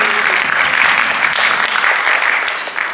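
Audience applauding a theatre production's technical team, the lighting and sound crew, at a talk session: dense, steady clapping from many hands fills the room without a break, fading a little at the end.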